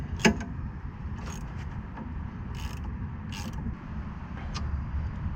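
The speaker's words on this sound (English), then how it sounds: "grab a 3/4 inch socket. And then all you want to do is tie it down." A 3/4 inch socket tightens a suspension bolt on a Jeep XJ during a Rough Country 4.5 inch lift install, giving soft mechanical creaks and ratchet-like clicks over steady background noise, with no talking.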